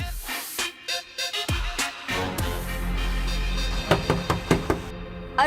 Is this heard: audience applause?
no